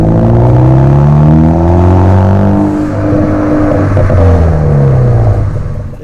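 Ford Focus ST fitted with a Ford Performance stainless steel cat-back exhaust, revving loudly up close with a deep, droning bellow that rises and falls steadily, with no talking over it.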